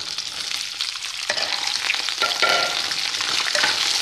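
Okra fries in hot oil while being stirred, giving a loud, steady sizzle and crackle with scraping from the stirring, close up and without talking.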